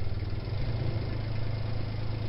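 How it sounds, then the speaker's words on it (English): A boat engine in the game Mermaid Swamp runs with a steady low idling drone and slight rough throb, constant and fairly loud throughout. "Now just start up the engine, and I could go to the other side."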